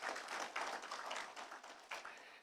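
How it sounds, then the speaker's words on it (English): A crowd at a poultry fund launch event gives sustained applause, a dense, faint wash of many hands clapping with small surges and no voices. "Can you please give yourselves a thunderous applause?"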